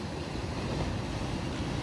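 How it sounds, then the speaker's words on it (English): Ocean waves surge below the Uluwatu cliffs in Bali, a dense, continuous roar of surf mixed with wind rumble, with no distinct breaks in under two seconds. "The ocean's amazing, but it looks terrifying."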